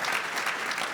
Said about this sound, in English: And I think you should be applauding for that.